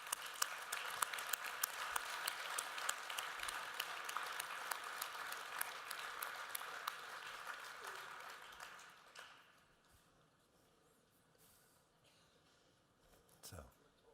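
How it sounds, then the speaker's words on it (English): An audience at the joint opening of the IFRC General Assembly and Red Cross Red Crescent Council applauds in a dense, sustained wash of clapping for about nine seconds, then it fades to quiet room tone with a brief stir near the end. "I think we can give them a round of applause."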